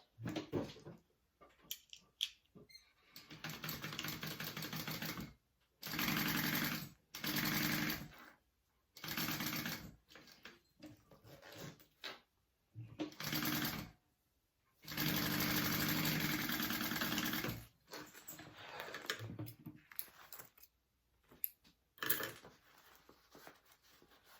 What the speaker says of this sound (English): I'm just gonna top stitch this down like this.